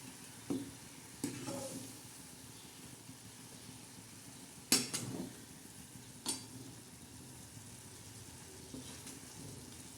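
Bajra flour and jaggery porridge is stirred in a pot as it boils. Quiet bubbling and simmering carry on throughout, broken by a few sharp spoon scrapes and clinks against the vessel.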